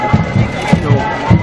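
A large crowd murmurs and stirs at a hunger strike rally in Belfast, with babble and scattered voices close by in a brief, busy burst of outdoor noise.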